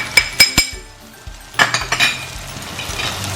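A metal spoon stirs turmeric, chili and coriander powder in a pan for crab masala. It gives a series of irregular, sharp clinks and scrapes against the pan, loud and close with short pauses between.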